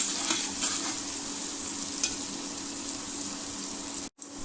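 Grated ginger and other ingredients frying in a home kitchen pan for katte pongali, a steady close sizzle with light stirring scrapes, cut off abruptly near the end.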